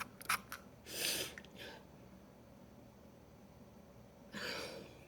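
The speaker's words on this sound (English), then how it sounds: "Let me spray it again." A few short hissing spritzes from a men's fragrance spray bottle, close and fairly faint, with quiet clicks before the first bursts and a pause between them.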